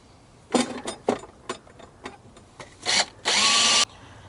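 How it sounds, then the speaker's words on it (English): Power drill boring a 13/16 inch hole into a center-punched metal part during an immersion cooling build, several short bursts of the motor before one longer sustained run near the end. "and then drill."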